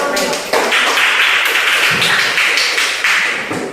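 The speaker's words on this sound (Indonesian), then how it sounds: "Tepuk tangan untuk kelompok Boyolali" A group applauds the Boyolali team in a teacher-training class, loud close clapping with sharp bursts forming a dense, uneven rhythm across the whole stretch.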